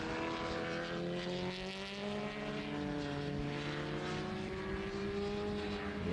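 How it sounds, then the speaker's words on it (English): A Yamaha R6 racing motorcycle at a classic bike festival race comes down the track, its high engine note steady and loud throughout, with the pitch shifting slightly as it draws nearer. "This R6 coming back down towards us now."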